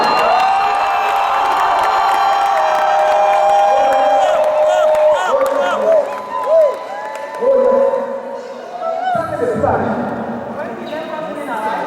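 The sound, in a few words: congregation shouting for joy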